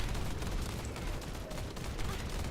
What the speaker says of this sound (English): The sound of repeated gunfire